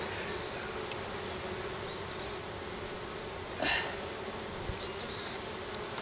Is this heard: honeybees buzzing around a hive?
yes